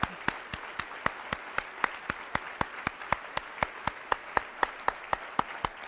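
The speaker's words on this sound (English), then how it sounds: "Let's give them a round of applause." Steady, evenly spaced claps at a conference opening plenary, sharp and regular like a few people clapping in rhythm, moderately loud with no talk.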